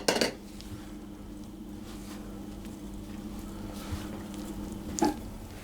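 A spoon works through a sticky sultana loaf cake batter with egg in a bowl, giving a clink at the start and end and soft squishy stirring between, close and fairly quiet.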